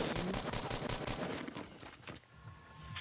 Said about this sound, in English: I can get a couple shots off.